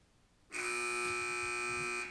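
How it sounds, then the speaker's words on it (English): A loud, steady electronic quiz buzzer sounds alone at a high school quiz-bowl match, sustaining a bright, harmonic-rich tone for about a second and a half before cutting off. "Teams wait for the buzzer if you'd like to answer."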